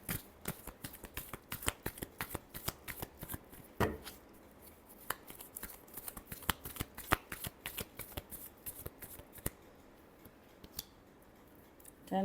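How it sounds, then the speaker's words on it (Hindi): A deck of tarot cards being shuffled by hand close up, a long run of quick, crisp riffling snaps and flutters in irregular bursts, with brief pauses between them and no speech. "Last shuffle."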